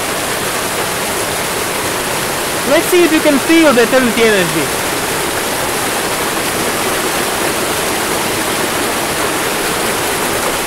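Steady broadband rush of a waterfall in a forest, loud and continuous throughout, with someone speaking briefly over it.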